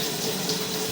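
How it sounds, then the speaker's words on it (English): Water is run into a residential drain line that has a hole at about 45 feet, making a steady, broadband rushing and hissing flow that continues evenly throughout at moderate loudness. "So I'm going to try to run some water here"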